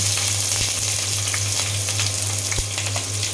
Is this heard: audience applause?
no